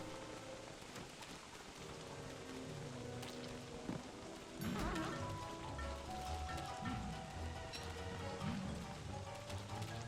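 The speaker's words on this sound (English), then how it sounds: "Literally, as soon as I mentioned it, it started raining." Rain falls in the survival game Don't Starve Together, a soft continuous patter that thickens partway through, with low rumbling swells underneath and no talking.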